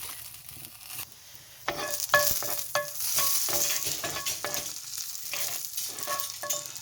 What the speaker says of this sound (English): So I'm going to roast this some more.